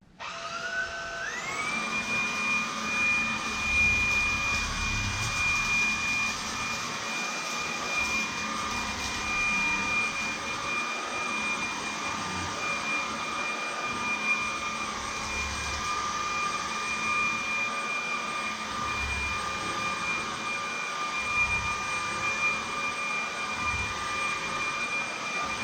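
A Tineco A10 cordless vacuum cleaner running in high power mode on carpet: a loud, steady high-pitched whine that rises as it spins up, then holds continuously close by with faint shifts as it is pushed back and forth.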